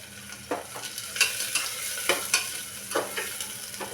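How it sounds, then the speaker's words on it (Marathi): Chopped chili and onion frying in a pan, a steady close sizzle punctuated by repeated scraping stirs of a spoon, no voices present. "मिरची आणि कांदा कापलेला आहे तो टाकून घ्यायचा"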